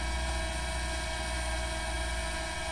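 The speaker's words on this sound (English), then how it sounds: "So I'm gonna land this drone." A small consumer drone hovering before landing near an RV gives off a steady, close propeller whine and buzz that holds level throughout with no pauses.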